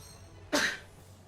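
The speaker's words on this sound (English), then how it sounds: "I have to sneeze." A single sudden sneeze bursts out close by from a person with allergies, a short sharp noisy blast lasting a fraction of a second before fading back into quiet room hiss.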